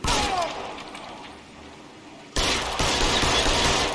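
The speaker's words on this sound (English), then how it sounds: "That friggin' blind fire." Gunfire in the L.A. Noire video game erupts as a sudden, loud, dense burst after a quieter stretch of background sound, then continues as sustained firing.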